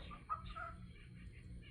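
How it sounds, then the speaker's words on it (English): Birds calling in a quiet yard, a short chirpy call and a few faint bird notes over a low steady background hum, fairly distant and soft. "the birds are singing"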